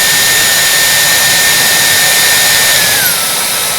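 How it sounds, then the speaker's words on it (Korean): Electric air blower running at a raised setting in a classroom science demonstration, a loud steady jet-like whoosh with a high whine that dips slightly near the end, heard alone. "바람 세기를 한 칸 올리면 더 높게 뜨게 되겠죠? 한 칸 더 올려볼까요?"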